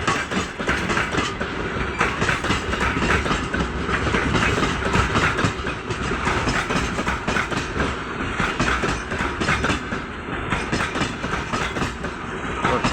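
A rare 3M62U diesel locomotive drags a heavy train up a steep grade, its engine a steady loud drone under continuous clickety-clack of wagon wheels on rail joints and faint wheel squeal, with no gaps.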